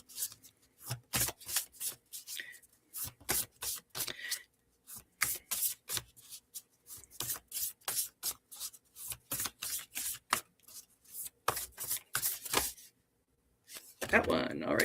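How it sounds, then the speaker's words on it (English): Rapid crisp riffling of a card deck, repeated in quick bursts for most of the stretch, close and fairly loud, with a short pause near the end. "I always find some of these decks so awkward to shuffle."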